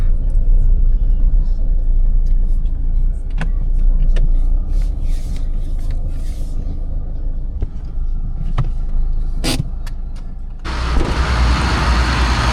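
Car driving along a road, heading out to a farm field, with a steady low engine and road rumble throughout, a few brief clicks and knocks inside the cabin, and a louder burst of broadband noise near the end.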